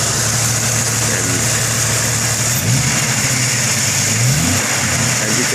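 A Jeep 4.0 engine fitted with upgraded 1999-and-later injectors revs smoothly with light throttle, its steady mid-low drone rising in two short swells near the end. A faint voice comes in briefly over the engine.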